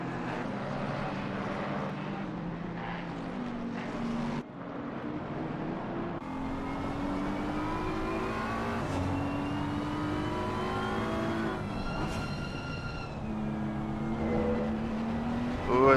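BMW and McLaren race cars at the Hungaroring in a racing video game, engines revving and shifting through gears in steady rising and falling tones, close and continuous.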